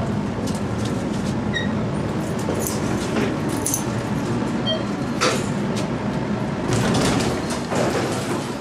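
A private elevator in a luxury Miami condo building hums and rumbles steadily through its ride, with faint clicks and a soft sliding sound from the doors, and no talking.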